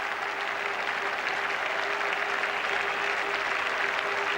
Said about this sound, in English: there'll be a standing ovation here for Wasim Akram